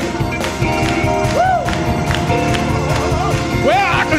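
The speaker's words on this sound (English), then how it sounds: "Come on, clap those hands, everybody." Congregation clapping along at a gospel funeral celebration of life service, a steady patter of hands mixed with organ music, singing and shouting voices.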